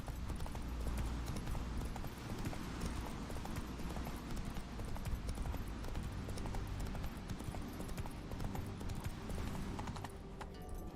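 Horse hooves clip-clop steadily in a video game, a continuous rhythmic trot at moderate loudness that eases slightly toward the end.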